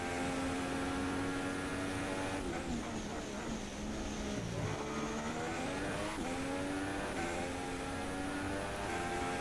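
A Formula 1 car in the F1 2016 racing game brakes hard into a right-hand turn, its high engine note dropping sharply as it slows and then climbing again, loud and continuous throughout.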